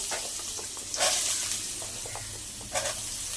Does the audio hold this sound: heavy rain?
no